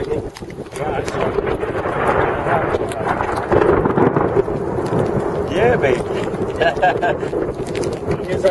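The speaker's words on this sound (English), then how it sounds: "This thunder and lightning, it's no good." On Whitney-Gilman Ridge in New Hampshire during a hailstorm, a deep, continuous rumble of thunder rolls under steady rain, with a voice speaking briefly over the storm noise.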